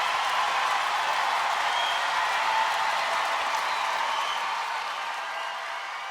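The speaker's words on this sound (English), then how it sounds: "Just let the woos and claps fade out." Audience applause and cheering at a live concert in the Royal Albert Hall, a dense wash of many hands clapping with scattered whoops, loud at first and slowly fading toward the end.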